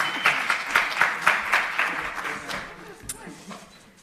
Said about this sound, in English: Please give Olipa a round of applause.